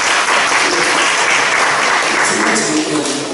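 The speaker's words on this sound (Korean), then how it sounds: "박수." A church congregation applauds steadily and loudly throughout, a dense wash of clapping with a faint voice underneath.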